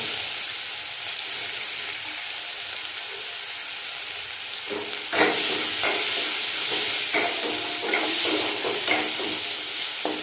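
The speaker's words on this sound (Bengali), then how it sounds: "পেঁয়াজটাকে আমি একটু ভালো করে ভেজে নেবো।" Sliced onions fry in hot oil just after mustard seeds have been tempered for a fish curry with mustard and poppy seed. A steady close sizzle grows louder and busier midway as stirring adds scraping bursts.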